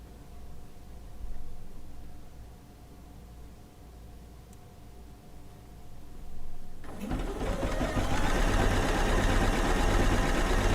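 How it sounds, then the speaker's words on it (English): A sewing machine stitches fabric for a quilt top. A quiet room gives way to the machine starting abruptly about two-thirds through, then a steady, close, loud mechanical whirring runs to the end. "I find it very relaxing to sit here and guide the fabric with the sound of the machine"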